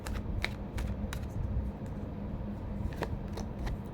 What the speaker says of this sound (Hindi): मैं और भी कुछ कार्ड्स लूँगी।